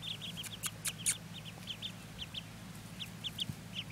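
Small ducks give a run of short, repeated nasal calls near the recording, with brief louder squawks mixed in over a low steady background hum, and nobody speaks.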